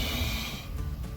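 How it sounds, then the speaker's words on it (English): A self-inflating mattress blown up by mouth at a wild camping spot, giving a short, close, breathy snorting huff like a hippo that tails off within about a second. "He's actually blowing up a self-inflating mattress."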